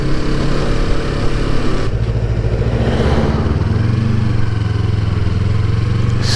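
BMW 1000 motorcycle engine running close by, a steady loud rumble that rises in pitch and intensity partway through, with no talking.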